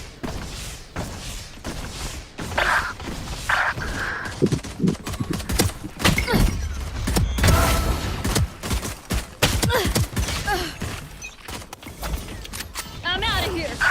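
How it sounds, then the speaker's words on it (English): Valorant gunfire in rapid bursts of sharp shots mixed with thumps and other game effects, under and between a player's talk. "Let the bullets fly."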